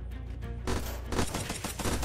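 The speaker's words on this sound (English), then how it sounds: "I didn't know this gun was a burst." Burst-fire gun shooting in the video game Unturned, a dense, loud volley of rapid shots that continues through most of the clip with no pauses.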